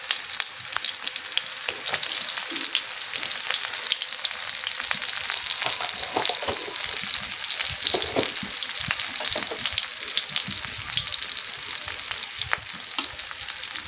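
Onions frying in mustard oil in a home kitchen pan for hilsa korma, a steady, loud close sizzle and crackle with occasional stirring scrapes, continuous throughout with no talk.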